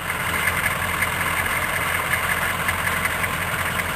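A non-turbo 6.2 diesel engine in a Chevrolet Suburban idles steadily at close range, a continuous loud rumble with a faint rhythmic knock, no voices over it.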